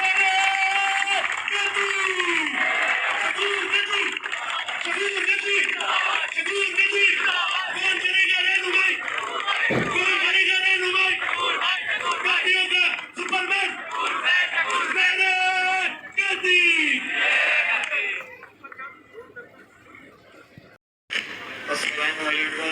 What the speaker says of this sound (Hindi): जनाब अब्दुल शकूर गद्दी साहब, भरपूर तालियों में इस्तेमाल कीजिए